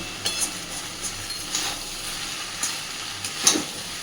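Prawn rice stirred in a pan over a medium-low gas flame, with a soft steady sizzle and a few faint clinks and scrapes of the spoon, quiet and close.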